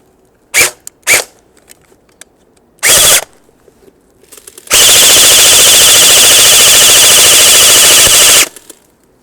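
LCT RPK airsoft gun firing: a few short single and burst shots with gaps, then one long sustained full-auto burst of nearly four seconds, loud and close, no talk.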